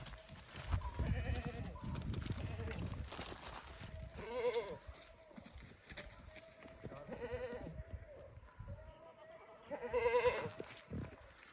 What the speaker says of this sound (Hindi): ये जो बकरी है ना ये आवाज़ें दे रही है।